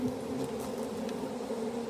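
A wild swarm of honey bees drones in a dense, continuous buzz that stays close and even throughout, with no voices.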